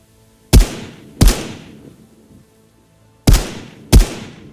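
Video game gun fire: four loud, sharp shots with booming tails, two close together, a pause, then two more.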